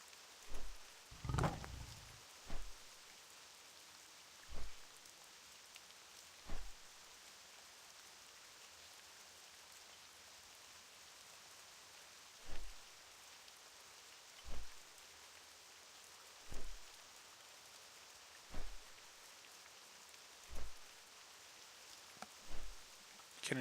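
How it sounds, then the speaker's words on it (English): Steady rain falls in a World of Warcraft landscape, a soft, even hiss running the whole time, broken by brief, sharper pops that recur every couple of seconds. "Can enjoy the sound of the rain"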